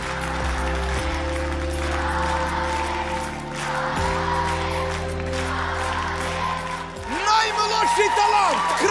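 An audience claps steadily at a show, the applause running under sustained music chords and an excited voice talking, with the clapping rising a little louder toward the end.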